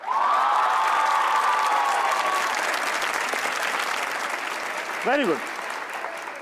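A studio audience at a talk show claps loudly and continuously, the dense applause gradually thinning out, while someone briefly speaks near the end.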